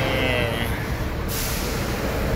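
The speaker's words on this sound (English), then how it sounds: "So this is our bus" A bus at a terminal gives a sharp burst of air brake hiss, then a steady broad rush of air and engine noise that stays loud and close throughout.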